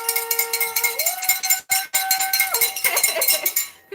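A bell sound effect rings out loud and alone, a bright metallic clang with a long sustained tone, followed by further struck, ringing notes.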